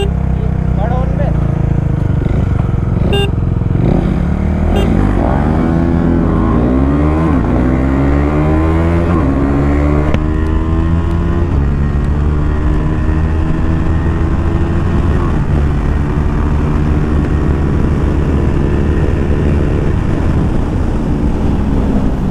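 Engines of KTM Duke 390 motorcycles, a BS6 and a BS4 version, revving and accelerating hard in a race, loud and close with rising pitch sweeps as they pull through the gears, droning steadily throughout.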